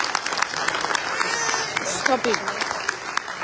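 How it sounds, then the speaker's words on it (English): Audience applause at an Australian citizenship ceremony, a steady patter of many hands that continues as a voice speaks briefly over it near the middle. "Give yourselves a round of applause."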